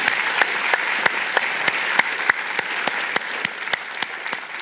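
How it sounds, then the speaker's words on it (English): Audience applause for a conference panel at an economics session, sparse individual claps standing out over a dense steady patter, continuing evenly for several seconds with no voices. "Please give them a huge round of applause"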